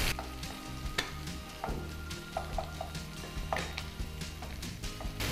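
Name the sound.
green chillies frying in a pan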